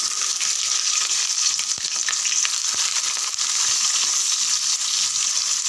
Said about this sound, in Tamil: வெங்காயம் பாதி அளவுக்கு வதங்கட்டும்.